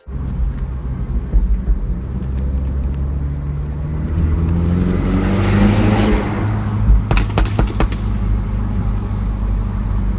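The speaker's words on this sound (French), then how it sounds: "l'énorme bruit des échappements JCW Pro" A MINI Clubman John Cooper Works's 306 hp engine and JCW Pro exhaust roar loudly and build as it revs, with a few sharp crackles toward the end, close by.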